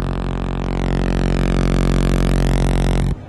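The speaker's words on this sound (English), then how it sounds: "at higher and higher settings, it turns into totally symmetrical, square clipping" Moog Sub Phatty synthesizer with multi-drive pushed into symmetrical square clipping, producing a loud, buzzy, harmonically dense sustained tone that holds steadily and then cuts off abruptly near the end.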